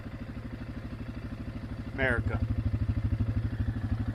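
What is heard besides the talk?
vehicle engine while riding around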